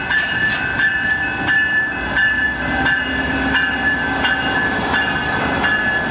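Amtrak Empire Builder passenger train at Portland Union Station, a steady close rolling rumble with rhythmic wheel clicks and squealing tonal whines sustained throughout, no voices.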